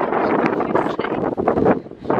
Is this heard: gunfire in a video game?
no